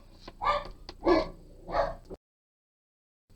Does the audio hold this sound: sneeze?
no